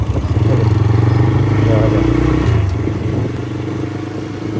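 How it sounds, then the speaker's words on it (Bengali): Motorcycle engine running steadily during a ride in cold weather, a loud continuous drone with a rising pitch sweep near the middle and then easing slightly, with wind and road noise throughout. "মূলত একটি ঠান্ডা আবহাওয়ায় বাইকটা নিয়ে বের হয়েছি"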